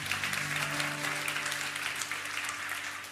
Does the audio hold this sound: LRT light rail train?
no